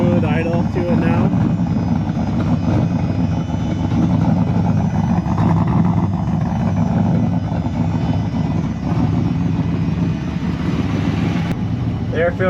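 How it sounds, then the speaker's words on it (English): A small-scale mini Ford F150 with a roof-mounted turbo and a newly fitted engine idles steadily, a continuous low rumble close by with a faint voice at times. "Got a nice smooth idle to it now."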